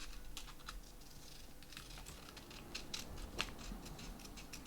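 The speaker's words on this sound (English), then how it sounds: "I almost cut the cable of my camera with these scissors" Scissors snip in a quick, uneven series of light crisp cuts, close and fairly quiet, with no talking.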